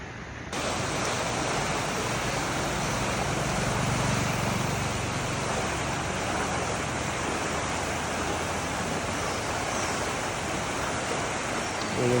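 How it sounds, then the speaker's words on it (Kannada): River water released through two opened dam gates rushes steadily about 20 kilometres downstream, a loud, broad, unbroken roar of flowing water with no voices. "ಆ 2 ಗೇಟಿಂದ ನೀರು ಎಷ್ಟು ಅಂತ ಇಲ್ಲಿ ತೋರಿಸ್ತೀನಿ ನೋಡಿ"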